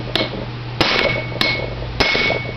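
A hammer strikes a staked-in universal joint to drive it out, four loud, sharp metallic blows spaced about half a second apart, each ringing briefly over a low steady hum.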